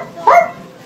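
A young child imitating a dog's bark, a single short, close, loud woof.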